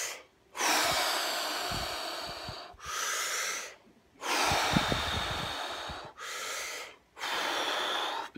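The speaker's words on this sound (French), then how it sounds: "tu fais le plein d'oxygène en prenant des grandes respirations comme" Deep breaths drawn in and let out, four long loud airy breaths close to the mic with short pauses between them.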